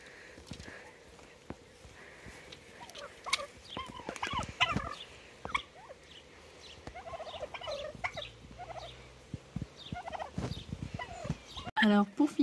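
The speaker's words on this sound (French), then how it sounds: "on a une vue en hauteur des dindes blanches dans leur parc" White turkeys in their pen gobble repeatedly in bursts, some near and some farther off, on a farm in July, with the calls overlapping and a voice faintly in the background.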